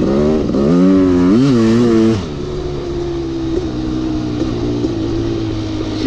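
A rebuilt Kawasaki KX500 two-stroke dirt bike engine runs close by, a few sharp revs at the start before settling into a steady, loud idle, with no talk.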